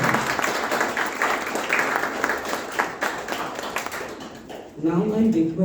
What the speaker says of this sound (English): A very big round of applause for our distinguished speaker